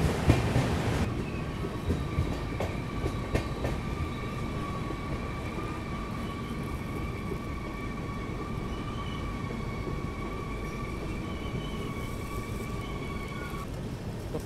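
The Nizamuddin TVC Express rumbles along between Ratlam and Mumbai, a steady close rolling drone from inside the train, with a sustained whistling tone over most of the run and a few sharp knocks early on.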